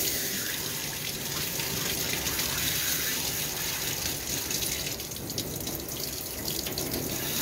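Warm water from a grooming tub faucet runs steadily while a dog is rinsed, a continuous close hissing gush with no speech.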